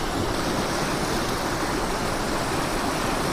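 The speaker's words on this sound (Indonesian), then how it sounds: "Selain gemericik air, suara kodok juga dominan di sini." Babbling river water at a night campsite on Kali Bontar in Magelang, a steady, dense rush of flowing water heard close and continuous.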